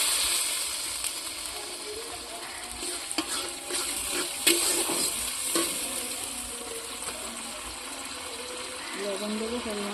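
Bengali-style spice paste with ginger and garlic fries in oil with a steady sizzle and hiss as water is added, with the scraping of stirring and a voice talking over it throughout.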